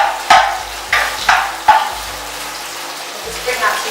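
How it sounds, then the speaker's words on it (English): Onions sizzle and crackle steadily in hot oil in a pan, with a few sharp bumps and scrapes from stirring, close up and fairly loud. "You can hear that sizzle, that's the sizzle, that's the sound that we need to achieve."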